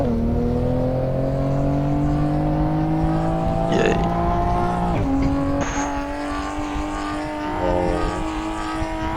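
A race car's engine drones loud and close on the Shutoku expressway at night in rain in a driving game, pitch sliding with gear changes and a brief tire squeal; a player exclaims briefly over it.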